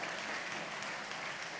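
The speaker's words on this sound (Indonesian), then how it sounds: "Mari kita tepuk tangan buat Tuhan kita yang baik." A church congregation claps for God after children's music in worship, a brief, dense, uniform burst of applause heard from within the crowd.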